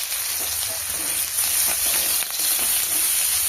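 Chili, garlic and ginger frying in a pan for soya chili, a steady close sizzle with light crackling and occasional stirring scrapes, no talking.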